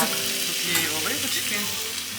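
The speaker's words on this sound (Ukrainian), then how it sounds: "І потім воно потрошки підпікається, піджарюється, тут воно робиться, нагрівається" Food sizzles and fries on a raclette grill at a friends' evening, a steady close crackle with faint clinks of stirring and no clear talk.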